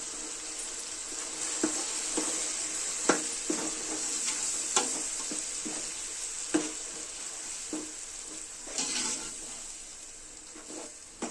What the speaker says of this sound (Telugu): ఇదంతా వేసుకొని వేయిస్తాం